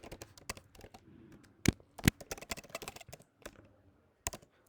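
Someone types a username on a computer keyboard, producing quick, close, irregular key clicks with a few sharper, louder strikes in between and short pauses, with no voices.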